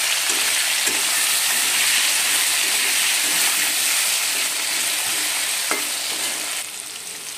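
Steady, loud frying sizzle of potatoes with salt in a pan for rohu fish curry fills the whole stretch, with occasional clinks of a utensil against the pan and a slight drop near the end.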